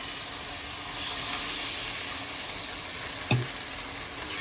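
Vegetables frying in a pan while preparing a plain fish curry, with a steady close sizzle and hiss, and a brief louder burst near the end as water is poured in.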